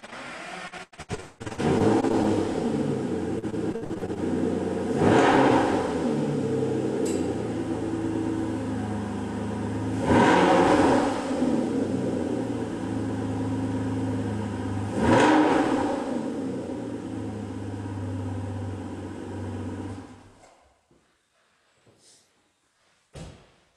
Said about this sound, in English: I'm going to jump in this vanquish and start it so you can hear it.